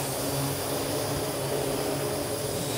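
A Parrot AR drone struggles to fly while carrying a three-quarter-pound package, its rotors giving a steady, loud whirring buzz close by with no talking.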